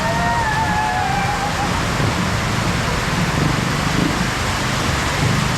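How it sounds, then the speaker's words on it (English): Heavy rain pouring down in the Philippines around a house construction site; a loud, dense, unbroken hiss throughout, with a faint whistling tone early on. "just go to the streets and enjoy the rain"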